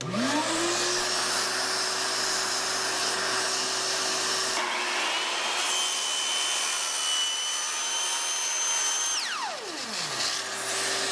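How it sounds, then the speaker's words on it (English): A track saw starts up and makes a plunge cut with shop vac dust collection running, a loud, steady motor whine that shifts pitch partway through, then spins down near the end. "Okay, so we'll flip that on, we'll do our plunge cut,"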